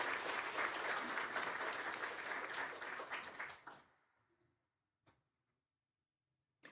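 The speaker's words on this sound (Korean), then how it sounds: "큰 박수로 환영해 주시기 바랍니다." A church congregation claps in welcome at an awards and testimony service, a dense, even wave of applause that fades out after a few seconds, followed by silence and a couple of faint knocks.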